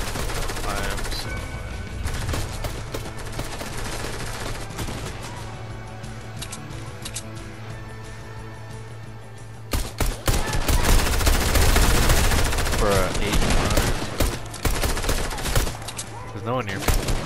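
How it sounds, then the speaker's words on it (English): Gunfire in the battle royale game Fortnite, with rapid overlapping automatic bursts. The fire is steady for the first half, then a louder, denser volley erupts around the player, and a voice talks briefly over the shooting. "Oh, I'm getting shot at."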